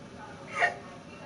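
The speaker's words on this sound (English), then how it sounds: "that's pregnancy hiccups" Pregnancy hiccups: a single soft, brief hiccup sound, quiet and close, rising briefly above a low background with no talk.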